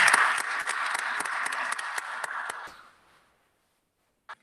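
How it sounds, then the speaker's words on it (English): Applause at a county board of commissioners meeting, many hands clapping steadily for nearly three seconds before fading out, followed by a single brief clap. "Give him another round of applause."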